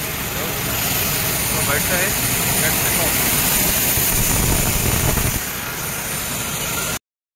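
Loud, steady roar and whine of jet engines nearby at Pune Airport, with a person speaking briefly over the constant noise.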